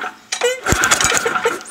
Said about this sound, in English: it's easier to pull the engine over with the spark plug out so that your engine's not under compression